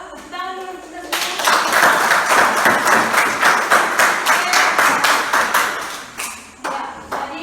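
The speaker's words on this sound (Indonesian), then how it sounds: "Tepuk tangan dulu kita semua." A school class claps together for about six seconds, a loud, fairly rhythmic burst of hand claps that follows a brief voice and fades near the end.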